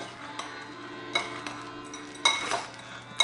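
Spoon stirring chocolate chips into a flour mixture in a bowl, producing scraping swishes and a few sharp clinks against the bowl, close and moderately loud with no talking.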